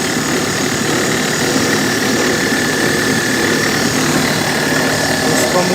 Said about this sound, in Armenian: Կողմից է կոնկրետ ձենը լսվում, հնարավոր է դինամոյի պատճենիկը լինի, կամ մածեժիտելը, որ ձգում է ռեմենը։